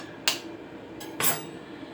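Two sharp cracks of eggs being broken, roughly a second apart, for onion bhaji batter, each a bright close tap against a quiet kitchen background with no talk.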